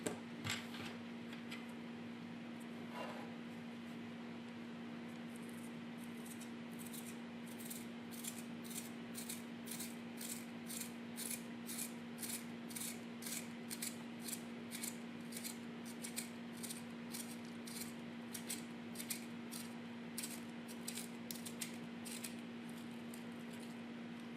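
An Apsara HB pencil is worked in a sharpener with a long run of quick, rhythmic scraping clicks, close and quiet, over a steady low hum.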